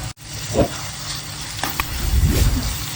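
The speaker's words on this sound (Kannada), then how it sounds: "ಚೆನ್ನಾಗಿ ಫ್ರೈ ಮಾಡ್ಕೊಬೇಕು." Egg and potato bhurji with masala frying in a pan, a soft continuous sizzle with a few stirring scrapes, close and moderately quiet, with no talking.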